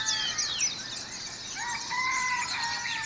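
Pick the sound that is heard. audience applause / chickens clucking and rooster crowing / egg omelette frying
chickens clucking and rooster crowing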